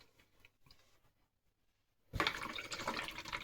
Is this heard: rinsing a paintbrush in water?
yes